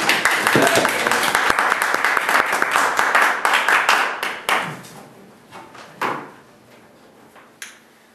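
Applause from a Toastmasters club audience greeting a speaker, dense clapping for about four seconds before thinning into scattered claps and a few late ones.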